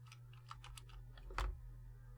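Keystrokes on an unstable, wobbly computer keyboard, a quick irregular run of clicks followed by a louder clustered clatter, close up over a steady low hum.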